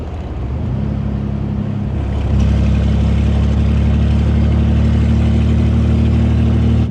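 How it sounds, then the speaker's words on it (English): A Chevrolet Corvair engine idles steadily at close range, with a low, even rhythmic rumble that deepens and grows slightly louder partway through and then holds constant. "as you can hear, the car is idling and it sounds pretty good"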